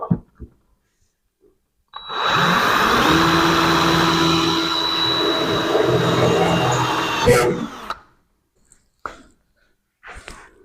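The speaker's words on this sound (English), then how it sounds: "Now let's drill our second hole." A power drill bores a hole in a Toyota Tacoma hood bracket, a steady whining run of about six seconds with a rising pitch, bracketed by soft clicks and handling noises before and after.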